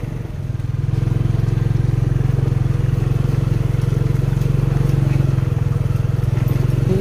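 A small motorcycle rides over a rough, bumpy road, its engine a steady, loud, close drone with faint rattling and clatter throughout.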